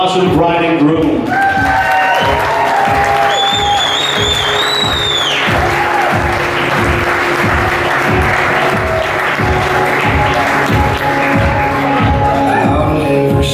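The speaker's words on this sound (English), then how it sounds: "Let's have a nice big round of applause for the bride and groom." Wedding guests applaud the bride and groom ahead of their first dance as husband and wife, a dense, steady wash of clapping that runs the full length, with a rhythmic music beat and scattered cheers and voices mixed in.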